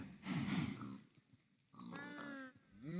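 Minecraft pigs grunt twice, first a rough, throaty snort, then a higher nasal oink after a short pause, both close and fairly quiet.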